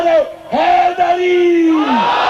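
A religious gathering's crowd roars the slogan "Haidari" with hands raised, loud sustained chant in repeated long rising calls, close and full.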